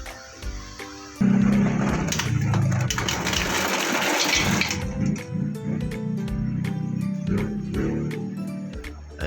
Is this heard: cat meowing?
no